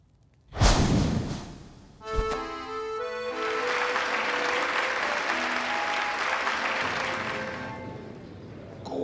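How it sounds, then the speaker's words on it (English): Crowd applause in the video game Hollow Knight swells after a sharp hit and holds as sustained clapping and cheering under game music, fairly quiet overall. "Hear how the crowd adores you."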